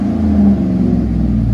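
GMC Sierra 1500 SLE with a 5.3L V8 and Vibrant glass pack exhaust, wide pipe and 2 1/4 inch tailpipes, a loud deep rumbling idle with a brief swell of revving. It runs steadily throughout.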